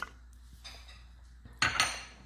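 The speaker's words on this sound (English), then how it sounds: "So I'll be adding the cauliflower to my blender first." Cauliflower pieces dropping into a blender jar while a detox drink is prepared, giving a short clatter of light knocks followed by a louder, brighter jostle of pieces landing near the end.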